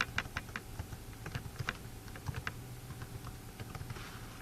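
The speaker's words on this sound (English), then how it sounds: "If I can type." Fingers tap quickly on a computer keyboard, producing a close, quiet run of irregular clicking keystrokes over a faint steady hum.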